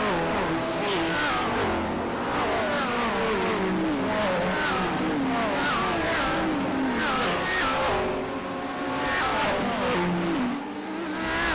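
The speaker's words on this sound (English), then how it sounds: "All 29 cars still rolling." GT3 race cars at the Zolder circuit howl continuously, engines revving up and down through the gears in rising and falling sweeps, several cars overlapping, loud and close with no talk.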